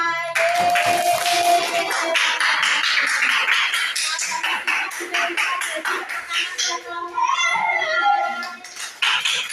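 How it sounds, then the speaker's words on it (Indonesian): Classroom clapping for Rara's group, a dense burst of many hands close by with children's voices chattering underneath, thinning out toward the end. "bisa jadi tepuk tangan buat kelompoknya Rara"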